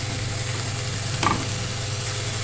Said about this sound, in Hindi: और ये 4 से 5 हरी मिर्चें, ये भी ऐड करते हैं।